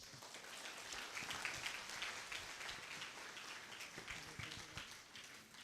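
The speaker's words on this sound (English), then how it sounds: "Let's keep clapping to his." An audience applauds at an International Day of Mathematics and Pi Day event, a continuous even patter of many hands that sounds fairly distant and soft, with no one speaking over it.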